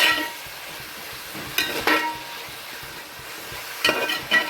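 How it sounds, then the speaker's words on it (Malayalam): Onions for crab curry saute in a pan with a soft, steady sizzle, broken by a few sharp scraping stirs near the middle and again close to the end. "അപ്പോൾ ഉള്ളി നന്നായിട്ട് വഴണ്ട് വരട്ടെ"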